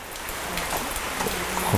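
Steady rain falls at a house in Narathiwat, a dense even patter of drops on surfaces throughout, with no one speaking.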